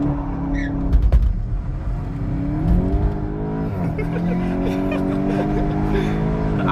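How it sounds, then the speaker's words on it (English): A VW Golf 8 GTI accelerates hard from a launch-control start, its engine revving up with rising pitch through a gear change and pulling strongly from inside the cabin. "I think I'll use this opportunity to try launch control."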